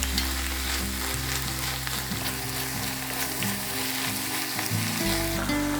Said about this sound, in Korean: 이제 썰어둔 자투리 채소를 넣고 볶아주세요